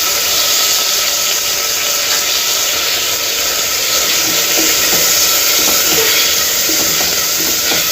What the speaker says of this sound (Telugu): కలిపేసుకున్న తర్వాత 1 నిమిషం పాటు ఇలానే వీటిని వేయించుకుందాము.